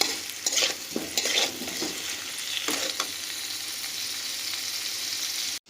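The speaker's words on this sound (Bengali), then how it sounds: "অল্প নুন হলুদ দিয়ে ঢাকা দিয়ে আমরা এটাকে আলুটাকেও খুব ভালোভাবে ভাজা করে নেব" Potatoes fry in a pan with salt and turmeric, giving a steady close sizzle, with a few scraping stirs near the start and no voices.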